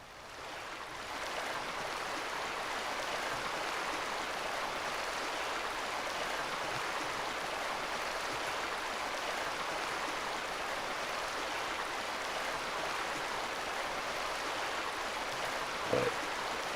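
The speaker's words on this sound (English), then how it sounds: "But there's the spigot sound. It's real loud just right there" Water gushes steadily from a spigot into a drain in Farming Simulator 22, a loud, continuous broadband rush that holds unchanged throughout with no talk over it.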